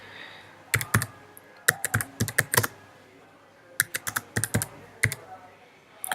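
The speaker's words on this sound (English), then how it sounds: "Whatever you want to type, just type, write it" Typing on an Apple MacBook keyboard, with crisp clustered keystrokes in several quick bursts separated by short pauses, close and clear with no talking.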